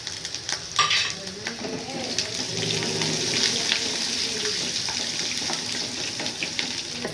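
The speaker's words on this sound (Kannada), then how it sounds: "ಸ್ವಲ್ಪ ಲೈಟಿಶ್ ಬ್ರೌನ್ ಬರಲಿ ಗೋಡಂಬಿ ಅಲ್ಲಿ ತನಕ ಫ್ರೈ ಮಾಡ್ಕೊಳ್ಳಿ" Cashews, ginger and garlic fry in hot oil for khara pongal, giving a continuous close sizzle with occasional stirring scrapes and no talking.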